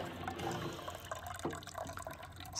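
Black or purple sugarcane juice pours from a grinder press in a steady liquid stream, close and continuous with light splashy variation, no voices over it.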